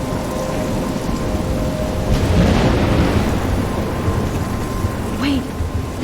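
A thunderstorm in the video game Life Is Strange, with steady heavy rain hissing throughout and a deep rumble of thunder swelling in the middle, loud and enveloping.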